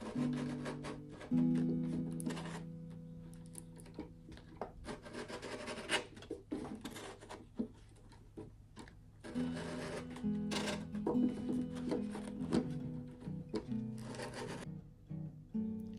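Sandpaper of 220 grit rubs over the wood of a 95-year-old guitar in repeated close strokes, a steady scratchy rasp that pauses briefly and resumes, with no talking.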